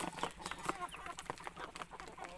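Native country chickens cluck softly around a feed tray, with scattered short clucks and murmurs at a quiet distance under a faint background hum.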